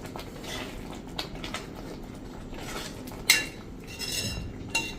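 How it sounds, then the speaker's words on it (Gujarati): Roasted makhana (fox nuts) are stirred into a gravy in a pan, with a spoon scraping and clinking against the metal in short irregular strokes, close and moderately quiet, including one sharp clink. "તો હવે આપણે જે આ મખાણા રોસ્ટ કર્યા છે એ નાખી દેશું અને મિક્સ કરી લઈએ."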